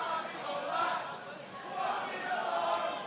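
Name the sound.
crowd cheering at an MMA fight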